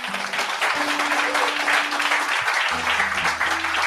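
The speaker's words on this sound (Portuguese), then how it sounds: "Então aplaudam o Senhor Jesus." A church congregation applauds during a sermon, dense sustained clapping from many hands filling the room, with sustained tones from instruments or a voice droning beneath it.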